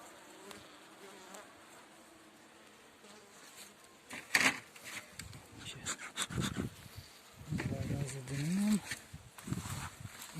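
Bees buzz in a dense, continuous hum from an opened beehive after a hive body has been lifted off during an inspection, with a few brief louder bursts and a short voice-like sound near the end.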